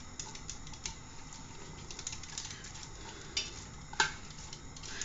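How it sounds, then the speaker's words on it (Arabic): Chopped onion softening in a pan for an okra and meat stew, a faint steady sizzle with a few sharp utensil clicks, no voices. "أول شي البصل المقطع لحتى يتحمر شوي"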